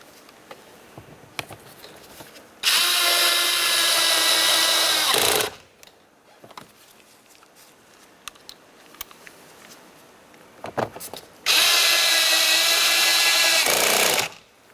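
Power tool driving in two 10mm headed door mounting bolts on a 2007-2012 Nissan during power window motor and regulator replacement; two loud, steady whirring bursts of about three seconds each, separated by quieter handling noise.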